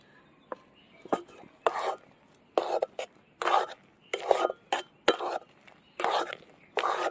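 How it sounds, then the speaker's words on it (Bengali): A sweet mixture made with Gobindobhog rice is stirred in a kadai, heard as a series of close, rhythmic scraping strokes separated by short pauses. "এটা আমি কড়াই দিয়ে ভালো করে এরকম নাড়বো"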